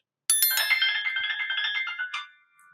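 An iPhone 16 rings for an incoming call, a short bright melodic ringtone phrase of chiming tones that starts abruptly and lasts about two seconds, clear and alone.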